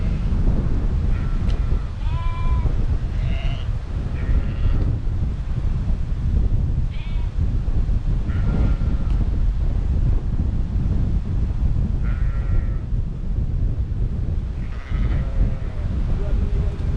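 Sheep on a farm bleat several times at moderate distance over steady, heavy wind buffeting the microphone, with a voice breaking in now and then.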